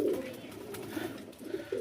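A loft pigeon gives a few soft, low coos in short bursts, faint and close against a quiet background.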